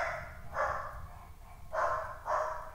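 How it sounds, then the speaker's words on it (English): Three loud, separate dog barks in a video game, spaced about a second apart, each a short burst with a hollow, slightly processed tone over a low background rumble. "Boy, stop barking!"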